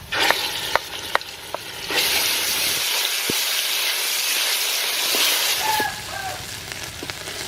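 Chopped dry sweet pepper sizzles hard in a hot pan for beef stew, a loud steady hiss broken by a few clinks and stirring scrapes, with the sizzle surging and easing as the ingredients are moved.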